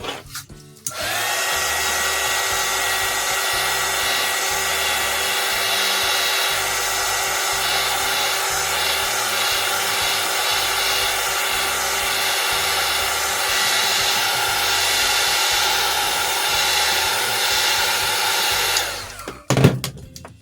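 A hair dryer runs steadily for about twenty seconds, blowing on a fresh coat of paint on a Harley bat decoration; a loud, even whir that holds unbroken from start to finish, then cuts off near the end.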